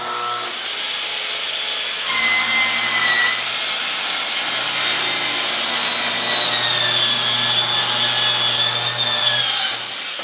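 A power saw slices through plywood being cut to length for an epoxy resin table form base, giving a loud, steady whining run of about eight seconds before winding down.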